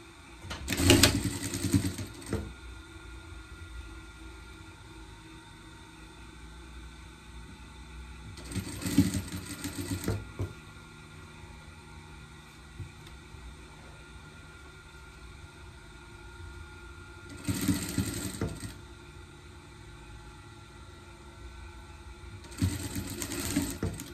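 A sewing machine stitching a seam on a small pet dress, running in four separate short bursts of fast mechanical whirring with quiet pauses between, close and clear.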